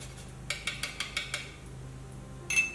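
Nutmeg is ground over chocolate cake mix in a home kitchen, a quick series of six crisp rasping scrapes in steady rhythm, followed by a brief clink close by.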